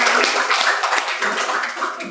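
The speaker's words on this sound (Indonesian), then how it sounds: "beri tepuk tangan untuk kita semua." A classroom of vocational high school students clapping together in a brief, dense burst of applause that carries on steadily for about two seconds.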